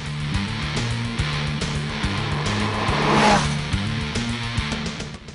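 Kawasaki Z1000 motorcycle engine revving hard, a steady loud droning tone that steps up and down in pitch as it is opened up, with a brief swell of rushing noise midway.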